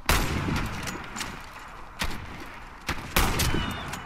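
Gunfire in the first-person shooter Warface, with repeated sharp shots and bursts cracking over a dense, noisy game soundscape; louder reports land near the start, at two seconds and around three seconds.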